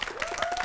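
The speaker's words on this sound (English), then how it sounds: "clap if you want Spencer" Audience applause fills the whole short stretch at a comedy improv show: steady dense clapping from a crowd, moderately loud, with no speech over it.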